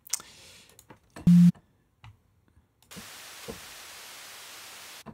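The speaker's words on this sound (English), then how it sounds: "you use white noise" A hiss of synthetic white noise begins partway through and holds steady, after a few scattered clicks and a short beep.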